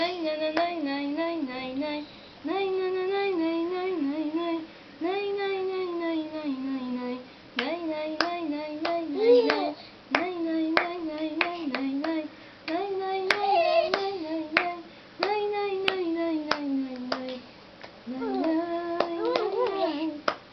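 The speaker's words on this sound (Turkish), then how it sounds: "Alkış yap sen de hadi." Hands clap in a steady run of sharp, close claps, with a voice singing and talking continuously over them in a home setting.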